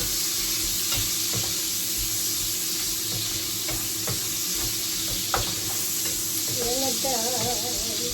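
Garlic and onion sizzle loudly in a hot pan, a continuous frying hiss broken by sharp clinks of stirring utensils, with a brief warbling tone near the end.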